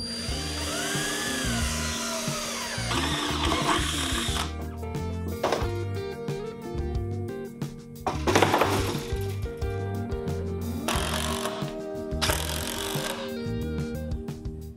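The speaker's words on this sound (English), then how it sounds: "in one of the slides, I had to drill some extra holes" Whirring bursts of a power drill boring holes into a drawer slide, several separate runs with pauses between, mid-distance and moderately loud.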